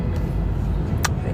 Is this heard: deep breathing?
no